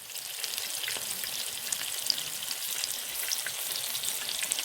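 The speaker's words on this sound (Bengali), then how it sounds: "সরিষার তেল দিয়ে ভাজতেছি" Kubuti kabab made from beef mince frying in mustard oil in a pan, giving a steady, dense sizzle with fine crackling pops throughout, close and continuous with no talking.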